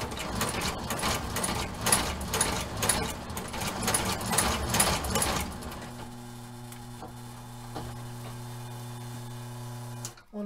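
A sewing machine with tension problems stitches a Ferragamo shoe in a rapid, rhythmic clatter of needle strokes that halts partway through, leaving a low hum and a few scattered clicks.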